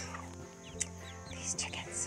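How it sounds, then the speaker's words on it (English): Chickens cluck softly and faintly in a small flock, brief scattered calls over a steady low background hum. "These chickens."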